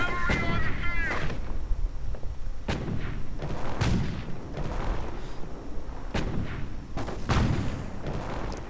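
Anti-tank half-tracks firing on a Sherman tank in a World War II real-time strategy game, a string of heavy booms and thuds at irregular intervals over a constant low rumble of battle, with no clear speech.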